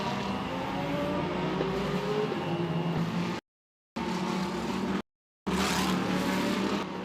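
GT race cars in the Galaxy Entertainment Macau GT Cup on the Macau street circuit, engines roaring and droning past at speed, loud and continuous with brief cuts in the sound, no voices.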